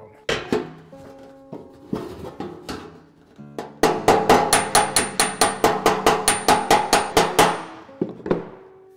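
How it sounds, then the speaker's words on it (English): A metal hammer planishes a dented sheet-metal panel against a dolly, ringing sharply up close. A few spaced blows come first, then a fast, even run of about fifteen strikes and a couple of final taps, with no talk. "now I'm going to just planish it back down"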